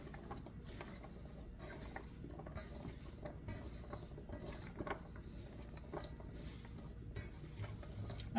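Grilled chicken, black bean, corn and avocado salad being tossed and mixed in a bowl, a steady quiet rustle of ingredients with faint utensil scrapes and clinks running throughout.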